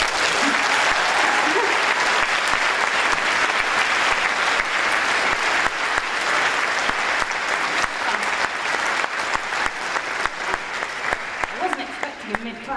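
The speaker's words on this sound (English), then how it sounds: "I wasn't expecting a mid-clap" Audience applause breaks out partway through a student business pitch at a national expo, a dense, steady wash of many hands clapping that sustains loudly throughout, fading slightly near the end.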